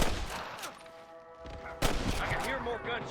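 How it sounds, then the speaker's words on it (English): Gunfire in the Xbox 360 western game Red Dead Redemption: a couple of sharp, loud broadband cracks ring out mid-clip amid game ambience, with a voice talking over them. "I can hear more gunshots."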